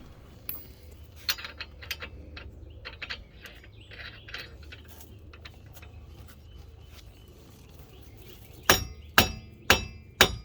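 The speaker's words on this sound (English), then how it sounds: "I use a rubber mallet to try and free the axle from the splines" A rubber mallet taps on a Nissan Altima's axle to free it from the hub splines; scattered light clinks and handling noises lead into four sharp, evenly spaced strikes near the end, close and distinct.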